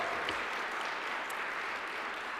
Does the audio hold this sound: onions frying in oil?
no